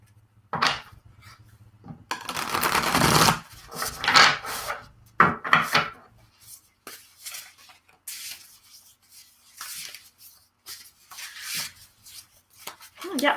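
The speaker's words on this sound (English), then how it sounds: "I'm just going to give the cards a bit of a shuffle here" A Spacious Tarot deck is shuffled by hand, with soft papery riffles and card rubbing in bursts amid quieter handling and a few brief spoken words.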